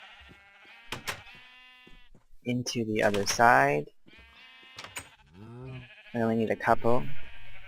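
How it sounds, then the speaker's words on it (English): Sheep in the Minecraft video game bleat in several drawn-out, wavering calls, loud and close, with someone talking between and over them. "So what we'll do first is just get some sheep"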